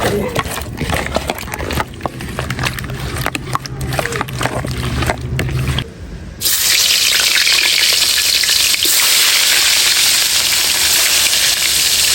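Shing catfish frying in a pan of hot oil: clattering, stirring noises for about six seconds, then a loud, steady, close sizzle that keeps on to the end.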